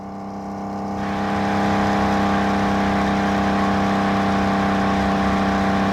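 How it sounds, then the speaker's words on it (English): A car engine in the video game Underground Garage rises into a sustained, loud, steady whine with a harsh droning screech, continuous and without talk. "Is that meant to be screeching tyres?"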